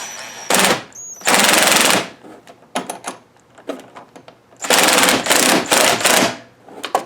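A power driver with a T30 Torx bit runs mudflap screws into a truck fender in short, loud, close bursts of rattling whirr, separated by clicks and handling knocks.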